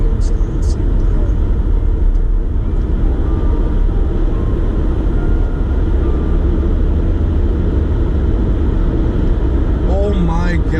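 A 2018 Volkswagen GTI cruises on the German Autobahn in eco mode, its steady engine drone, road and wind rumble loud and constant inside the cabin, while people talk over it.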